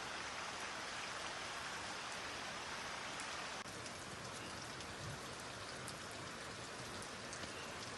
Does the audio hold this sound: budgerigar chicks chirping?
no